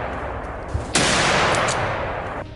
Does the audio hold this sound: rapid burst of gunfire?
yes